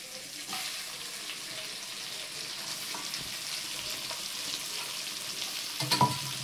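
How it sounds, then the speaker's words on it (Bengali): Chopped onion frying in a pan for a home-cooked prawn dish, a steady hissing sizzle with light stirring scrapes and a brief clatter near the end, no speech. "পেঁয়াজ কুচিটা আমরা ভালো করে লাল লাল করে ভেজে নেব"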